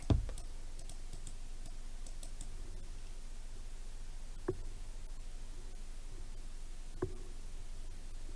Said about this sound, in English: Collect trash by clicking.